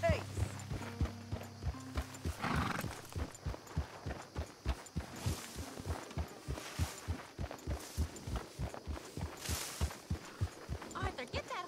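Horse hooves clip-clopping in the Red Dead Redemption 2 video game, a steady rhythmic run of hoofbeats in the foreground, with game music and a few voices speaking over it.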